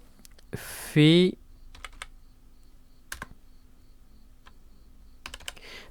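Computer keyboard keys tapped in a few short, sparse clusters, fairly close and quiet, with a brief burst of voice and a chirp early on.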